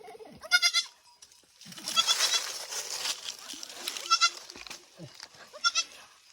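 Goats bleat repeatedly near a village, several nasal, wavering calls spaced a second or two apart, some close and loud, with a burst of hissy rustling noise between them.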